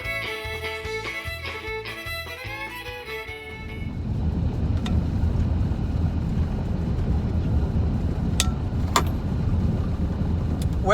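A pickup truck towing a fuel cart rolls into a corn field at harvest time, its engine and tires giving a steady broadband rumble after some music fades out, with a couple of faint clicks.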